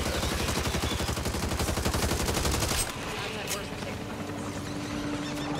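Rapid gunfire rattles loudly for about three seconds in the zombie shooter Back 4 Blood, then cuts off, leaving quieter game sounds.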